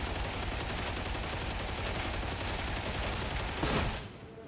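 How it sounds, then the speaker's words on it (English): A Mark II recon lasgun fires rapidly and continuously in Warhammer 40,000: Darktide, a dense, loud stream of energy shots that runs almost unbroken and then cuts off near the end. "swapping over to Mark II. And firing for effect."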